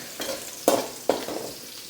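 Curry leaves, garlic and ginger-garlic paste frying in hot oil for chicken biryani: a few short sizzling bursts as ingredients are stirred, close and moderately quiet, with no talking.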